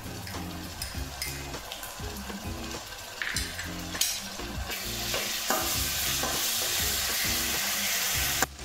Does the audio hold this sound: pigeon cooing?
no